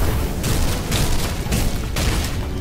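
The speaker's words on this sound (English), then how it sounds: "Atomic bomb." An atomic bomb goes off in a Roblox battlegrounds game: a loud, sustained roar of booming, crackling blasts that fills the whole stretch, with no talk over it.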